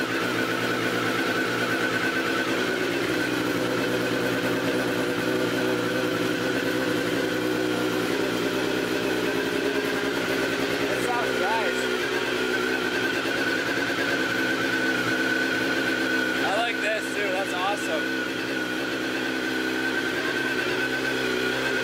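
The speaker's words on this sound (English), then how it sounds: "you gotta warm up the engine and let it cycle" A motorcycle engine idles steadily while warming up, a continuous low hum with a faint mechanical whine, unchanging and fairly close throughout with no one talking.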